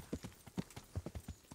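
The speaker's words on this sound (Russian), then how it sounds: "Лошадь добежит до меня." Horse hooves clip-clopping in the video game Kingdom Come: Deliverance, a quick, steady run of soft thuds, faint and heard alone without talk.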